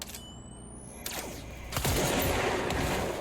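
Gunshots in The Quarry horror game, a couple of sharp cracks followed by a louder sustained burst of firing at close range, with no one talking.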